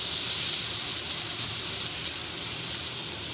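A steak sizzling in a hot pan, a steady close hiss and crackle of searing meat that holds evenly for a few seconds, with no talk.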